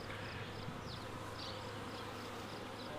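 Bees fanning at the entrance of a beehive make a dense, continuous buzz, close and steady, with faint rising whines from individual insects.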